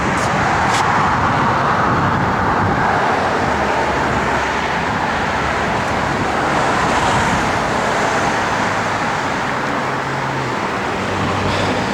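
A 1970 Chevrolet Chevelle SS with a 396 V8 rated at 350 horsepower, four-barrel carburetor and stock exhaust manifolds cruises down the road, giving a steady, continuous rumble of engine and tire roar with wind, at even loudness throughout.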